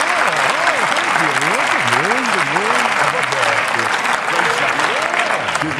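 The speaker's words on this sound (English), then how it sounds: "Give a little applause." A canned applause effect fired from a soundboard during a morning sports talk show, steady clapping throughout while a person talks over it with a rising, wavering voice.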